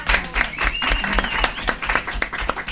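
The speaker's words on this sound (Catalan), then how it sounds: "Molt bé, un aplaudiment," Audience clapping at a casual community gathering, a dense patter of many hands at moderate volume that carries on steadily without pause.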